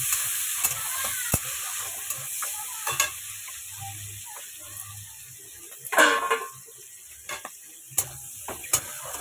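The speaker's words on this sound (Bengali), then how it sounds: "এবার এই যে মটরশুঁটিটা আর হচ্ছে কাজু কিশমিশ, এটাকে একটু ভাজা করে নেব" Peas, cashews and raisins frying in a pan, with a steady low sizzle, scraping stirs and a few sharp clicks of a spatula, and one louder burst of sizzling and clatter midway; no talking.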